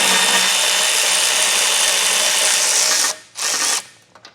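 A power tool buzzes steadily as it backs out 16mm bolts from the front of a 2023 Jeep Grand Cherokee during a base plate install, one long continuous run followed by two short bursts.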